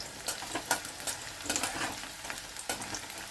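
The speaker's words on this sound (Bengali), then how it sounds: "পেঁয়াজটা ভাজা হয়ে গেছে" Onions sizzle softly in a pan for pav bhaji, a quiet, steady frying hiss broken by several scraping stirs of a spatula, close by and without talk.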